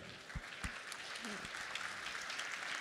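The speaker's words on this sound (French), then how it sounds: "on peut l'applaudir" Faint applause from a seminar audience for a speaker who has just finished a market review on consumer behaviour, a soft continuous patter with a few louder knocks near the start.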